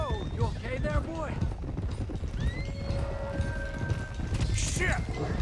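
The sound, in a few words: horse hooves and whinny in Red Dead Redemption II video game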